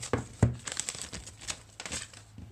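Plastic film peeled off a compact iPhone 12 Pro Max box, giving close, crisp crinkling and tearing with a few sharper bursts, nearby and fairly quiet, with no talking.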